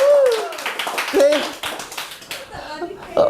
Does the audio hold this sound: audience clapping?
yes